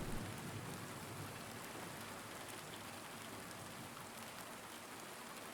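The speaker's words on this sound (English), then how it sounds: "So the rain is just kind of a big cylinder that travels around with James." Steady rain falling in the Silent Hill 2 Remake video game, a constant dense hiss with a soft low rumble beneath, even and unbroken throughout with no voices.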